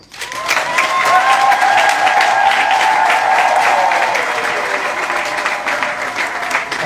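A church congregation breaks into sustained applause that swells quickly and holds steady for several seconds. A few voices carry faintly beneath the clapping.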